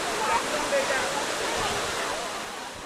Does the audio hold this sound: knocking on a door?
no